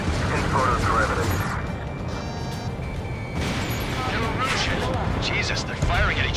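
Units trading fire in Ace Combat 7, a dense wash of distant booms and rumbling blasts with crackling bursts, sustained throughout under jet noise.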